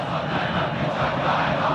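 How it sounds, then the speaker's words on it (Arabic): Football crowd at an Al Ahly vs Zamalek stadium match, a dense continuous roar of chanting and cheering from many fans, steady and loud throughout. "سامعين طبعا اصوات الجماهير"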